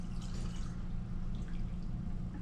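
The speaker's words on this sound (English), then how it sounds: "I'm just going to put in 250 milliliters of water because that's enough" About 250 milliliters of water is poured into a container sitting on a balance in a physics classroom, making a faint, continuous splashing trickle that lasts throughout.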